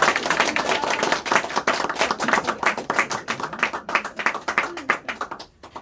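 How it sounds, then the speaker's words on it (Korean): At a lecture event, an audience welcomes a guest speaker with a loud round of applause, quick dense claps in a busy rhythm, with a faint voice speaking underneath before the clapping thins out. "큰 박수 네. 부탁드립니다."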